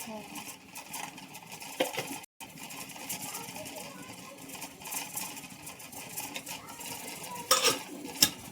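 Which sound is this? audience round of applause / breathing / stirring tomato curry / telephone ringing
stirring tomato curry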